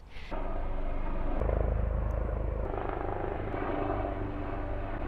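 Helicopters fly overhead, their loud rotor roar rising abruptly after a short pause and staying strong and steady, swelling slightly in the middle.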